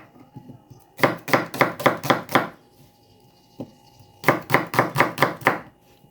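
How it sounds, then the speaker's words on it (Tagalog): Onion is sliced quickly with a knife on a cutting board in two bursts of rapid, crisp chops, each about six strokes, separated by a quiet pause with a single light tap between them. "Slice muna tayo. Kaili, unahin lang natin yung sibuyas."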